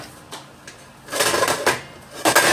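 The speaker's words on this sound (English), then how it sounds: "I'm gonna grab the lid." Metal pot lid clanking and scraping on a cooking pot of green chili on the stove, with a few light taps followed by two louder rattling clatters close by.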